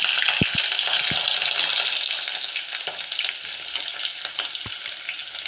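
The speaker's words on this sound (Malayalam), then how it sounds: "കടുക് പൊത്തി പൊട്ടി തുടങ്ങിയിട്ടുണ്ട്" Mustard seeds crackle in hot oil in a pan for prawn theeyal, a dense close hiss of sizzling sprinkled with a handful of sharp isolated pops and taps, steady throughout with no voices.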